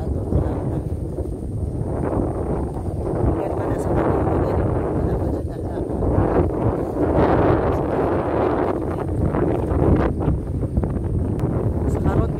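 Steady wind at Cayetano buffets the microphone with a continuous low roar, sustained throughout with slight gusting swells.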